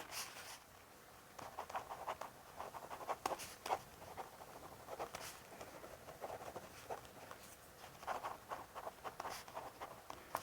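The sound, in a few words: writing notes by hand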